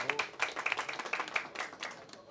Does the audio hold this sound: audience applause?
yes